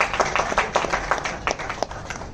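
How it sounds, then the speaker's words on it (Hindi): Audience clapping at an audition event: a small crowd applauds with scattered, uneven claps that come in loose bursts, moderately close, with a faint voice now and then. "थोड़ा तालियां बजा दो"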